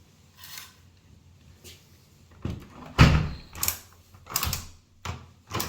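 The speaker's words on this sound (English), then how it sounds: "You open the door." A hotel room balcony door in Santorini being opened nearby: a series of clunks and latch rattles, one sharp knock standing out, separated by short quiet gaps.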